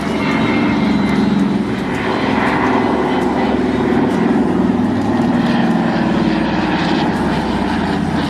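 Piston engines of a vintage Douglas Dakota airplane at an air show, a loud steady propeller drone with a rough pulsing throb, continuous and close throughout.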